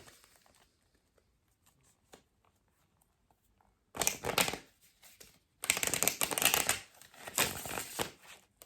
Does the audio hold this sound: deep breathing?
no